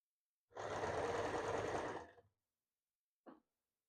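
A sewing machine stitches a blouse sleeve in one close burst of rapid whirring lasting about a second and a half, followed by a brief faint mechanical click.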